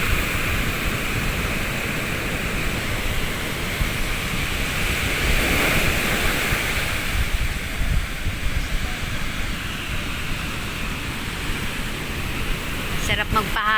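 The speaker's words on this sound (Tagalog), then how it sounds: "6 feet pa rin po ang alon oh" Six-foot ocean waves crashing on a beach, a continuous broad roar of surf with gusty wind buffeting the microphone, steady and close throughout.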